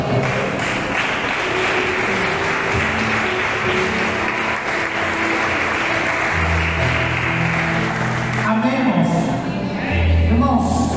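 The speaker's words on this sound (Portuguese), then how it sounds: "Faça palmas." A church congregation at a men's congress claps continuously for about eleven seconds, a dense, steady wash of applause mixed with voices and music.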